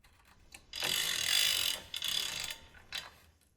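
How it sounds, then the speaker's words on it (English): An Allen key loosens the bolts on the left arm of a Shimano Hollowtech II crankset, a short series of close clicking, ratchet-like bursts with small gaps between them, and no talking. "unscrew the two bolts on the side of the left crankset"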